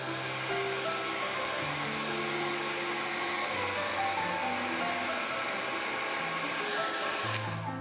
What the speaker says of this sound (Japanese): 星の部分をドライヤーで乾かします。